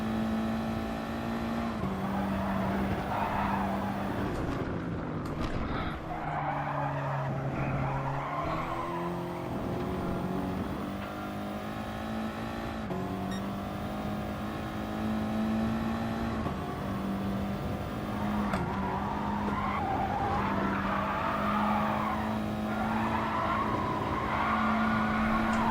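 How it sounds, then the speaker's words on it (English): Tyres skid and squeal repeatedly in Gran Turismo Sport with worn tyres, a sustained tonal screech riding over a steady race-car engine drone, sliding up and down in pitch through the corners, with no talk. "Shredding the tyres"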